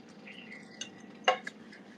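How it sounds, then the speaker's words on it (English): A spoon clanks against a cooking pot, faint and distant, with one sharp metallic strike standing out among softer clinks over a quiet background. "They've been hitting that spoon against that pot for like a good 15 minutes"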